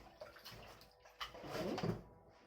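A kitchen sink tap sputters and starts to run during the washing of chicken cutlets, a faint hiss and splatter that builds into a fuller gush of water, quiet and close with no talk.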